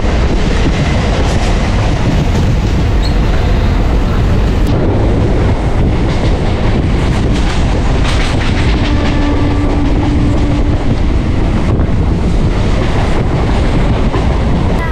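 A passenger train on the Sealdah–Gede line in rural West Bengal rolls along loudly, heard from onboard, with rhythmic wheel clatter, rushing wind and a brief squeal midway.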